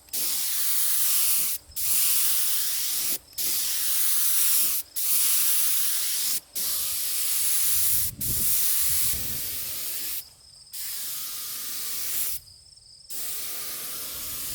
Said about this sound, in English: I get the gun loaded up with just clear polyurethane this time